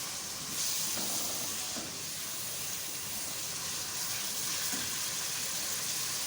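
Mutton gravy roasts in a pan, giving off a steady broad sizzling hiss throughout, fairly soft and close, with no talking.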